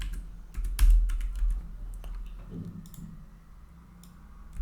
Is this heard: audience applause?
no